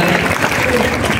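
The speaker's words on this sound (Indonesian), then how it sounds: "Itu kita tepuk tangan." Students at a school program clap together, a dense burst of applause filling the short moment, with voices faintly mixed in.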